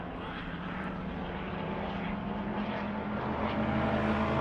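A race car engine warms up at Victory Lane Speedway, a steady, fairly distant droning rumble that holds an even level throughout with no distinct revs.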